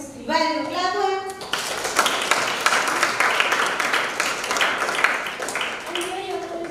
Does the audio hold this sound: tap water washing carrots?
no